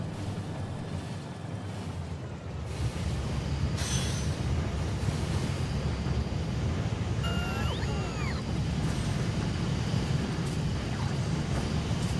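A train rolls along the tracks in the factory-building game Factorio, a steady rumbling run of wheels on rail with brief higher squeals, loud and continuous without a break.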